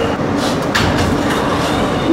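An R160 New York City subway car on the Z local line runs with a loud, constant rumble and rattle of wheels on track, plus faint rhythmic clatter.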